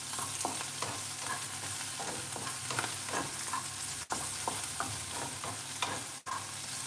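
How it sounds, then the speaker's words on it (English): Garlic frying and being stirred in a pan for Singapore noodles, with a steady loud sizzle and repeated scraping strokes of a utensil throughout, no voices. "Now I'm going to add the garlic first for the aroma to pick up"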